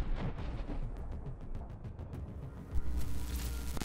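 FAB aerial bombs exploding near Donetsk: distant, rumbling blasts roll through the clip, with a sharper thump near the end and no voices.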